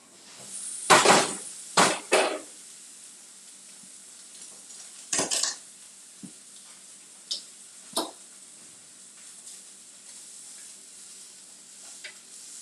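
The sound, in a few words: sausage cooking in a pan being checked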